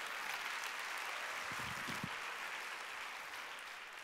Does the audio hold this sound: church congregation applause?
yes